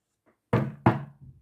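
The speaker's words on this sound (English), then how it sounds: "Knock, knock. It was the door again." Two loud, close knocks land on a wooden door about a third of a second apart, each with a short boomy ring, followed by a softer trailing thump.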